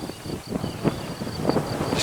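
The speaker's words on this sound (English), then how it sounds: "It's not too hot, it's very windy, as you can probably hear." Strong gusting wind buffeting a camera microphone outdoors by open fields, producing uneven low rumbling bursts and rustle across the short stretch, no talking.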